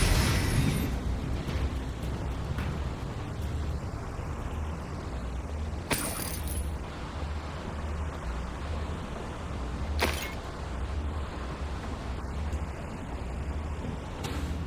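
Confringo blasting curses explode in the Hogwarts Legacy video game: two sharp, separate blasts burst out of a steady rumbling game background, several seconds apart.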